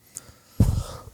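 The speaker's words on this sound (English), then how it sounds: "As I cough." A single short, harsh cough bursts out after a near-silent moment, followed by a faint breath.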